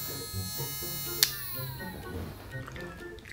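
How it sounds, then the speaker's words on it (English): An electric nail grinder runs for a pug's nail trim, making a steady high buzz throughout. A brief sharp click breaks in partway, and a low voice murmurs underneath. "this is what the grinder sounds like"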